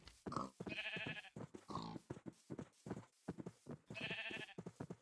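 Several Minecraft sheep bleat in quick succession, with many layered, wavering cries packed closely together at moderate loudness.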